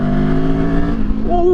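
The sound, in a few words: Benelli TRX 702X motorcycle engine revving to top of rev range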